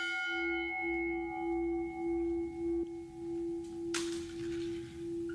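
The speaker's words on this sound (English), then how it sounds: "We will now ring the memorial bell for each one." A memorial bell tolls at a Memorial Day ceremony at the Virginia War Memorial, one clear sustained ring that hums and decays slowly, with a second soft strike near the end and light outdoor ambience.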